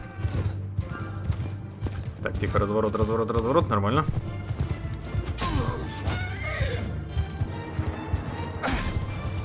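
A horse gallops and neighs in the medieval combat game Mount and Blade 2 Bannerlord: rapid hoofbeats and a loud whinny amid battle clatter, with someone talking over the action.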